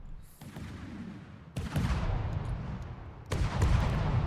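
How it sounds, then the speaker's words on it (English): Turret fire from combat robots in a video game battle: three separate bursts of rapid shooting, each starting with a sharp crack and trailing into rumbling, layered gunfire, growing louder toward the end. "And we're back to drunken shooting."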